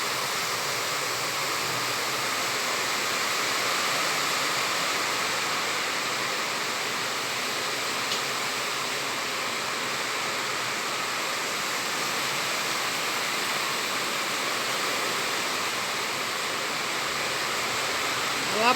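Heavy rain pours down over Maceió as a dense, even roar of water, loud and unbroken for the whole stretch, with no voices.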